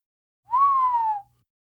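A person lets out a single low whistle, one steady tone lasting under a second that dips slightly toward the end, clear and alone against silence.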